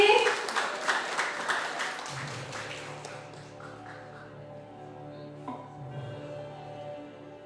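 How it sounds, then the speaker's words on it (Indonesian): An audience applauds to welcome a guest speaker at a university event, with a burst of clapping that fades under a loud voice and a sustained musical tone. "Beri tepuk tangan yang meriah untuk narasumber kita hari ini, Mbak Oki Puspamadarsari."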